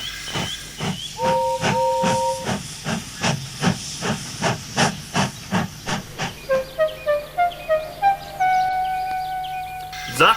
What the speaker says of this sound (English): When James arrived with his train, he let off steam angrily.